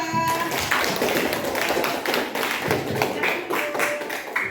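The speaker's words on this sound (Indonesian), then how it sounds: "Tepuk tangan buat kelompok 2" A classroom audience claps for a presenting student group, a steady patter of many hands at moderate loudness, with some voices murmuring underneath.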